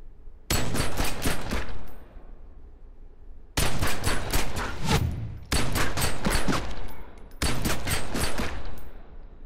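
A pistol with the hair trigger skill fires in the Outer Ring video game. Four quick bursts of loud, sharp shots arrive in rapid strings, separated by short silences, with no talking.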